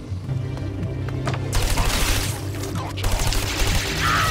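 Gunfire in the video game Trials of the Blood Dragon: dense bursts of rapid shots and booms that swell after the first second and carry on to the end, with a voice mixed faintly into the game sound.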